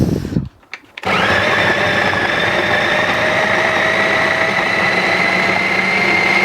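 A mixer grinder whirs steadily and loudly, blending red rice flake cake ingredients with salt; after a brief quiet start, the motor runs continuously to the end.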